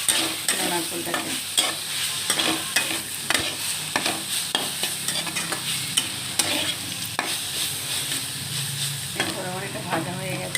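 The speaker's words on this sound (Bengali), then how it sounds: "একটু নাড়াচাড়া করে শাকটা একটু ভাজা হয়ে এসেছে" Greens fry in a pan with crushed coconut and poppy seed, a steady close sizzle broken by repeated scraping stirs at an irregular rhythm, with some talk in the background.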